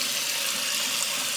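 Tap water runs steadily into a sink while basmati rice is rinsed, a close, continuous splashing hiss with no voices.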